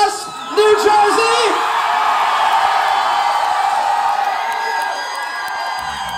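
A large concert crowd roars, whoops and cheers continuously at a rock show in Newark, New Jersey, loud and dense throughout, with a few shouted voices rising out of the sustained noise.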